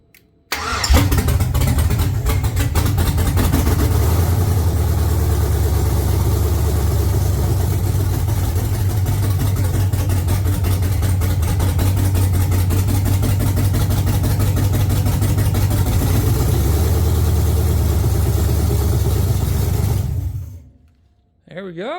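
A 5.3 LS V8 engine, hot-wired by holding a wire, cranks and catches, then runs loud and steady close by for about twenty seconds before cutting off abruptly.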